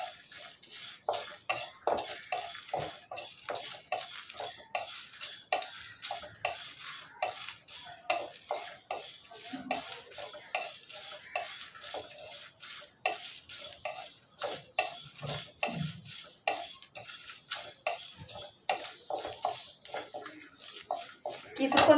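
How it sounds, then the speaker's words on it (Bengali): Green chilies and spices for a raw mango sour pickle are stirred and fried in a pan, making a steady rhythmic scraping with a soft sizzle underneath throughout. "আমি এগুলো দিয়ে ভালো করে একটু ভেজে নেব।"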